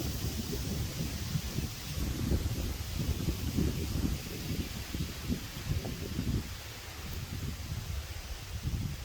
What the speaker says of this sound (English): The wind seems to be a little less severe as it kicks in right now.